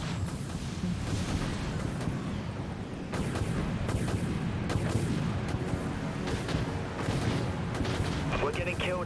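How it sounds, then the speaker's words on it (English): A torpedo launch and explosion in the naval combat game Dread Nothing, a dense run of booming blasts and artillery-like bursts in noisy battle audio, with speech mixed in. "Torpedo away."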